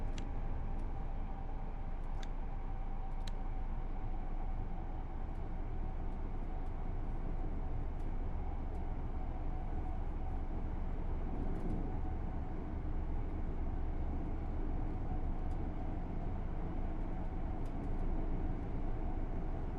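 A train cab runs in the railway video game Train Sim World 6 with a continuous low, even rumble and hum, heard quietly throughout, with occasional faint clicks.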